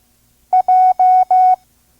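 Morse code letter J sent as a clear sidetone: one short beep followed by three long dashes, evenly spaced, loud and alone, in a slow five-words-per-minute training course.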